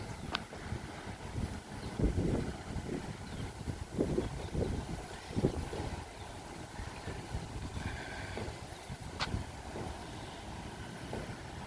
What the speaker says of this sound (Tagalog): ang sarap ng hangin halos hindi nga ako pinawisan dahil sa lakas ng hangin